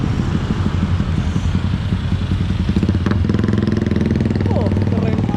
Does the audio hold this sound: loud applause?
no